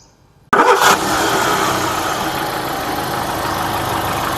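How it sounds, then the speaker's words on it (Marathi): A petrol car engine turns over and catches after a brief quiet moment, then settles into a steady, even idle heard up close, with no talk. "आता पेट्रोल इंजिनचा पण आपण आवाज बघू."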